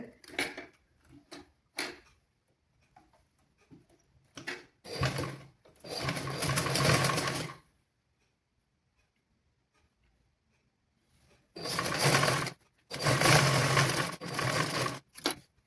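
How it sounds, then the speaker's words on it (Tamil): A sewing machine stitches a curved seam on a child's garment in close, loud bursts of rapid whirring, a long run and several shorter runs separated by quiet pauses filled with small clicks and handling noises. No one speaks. "இந்த சீம் பகுதியிலேருந்து நாங்கள் இந்த வளைவாக நாங்கள் தைக்க வேணும்"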